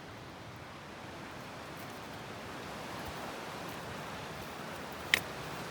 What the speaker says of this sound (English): And Snake Indian River is still a churny bastard.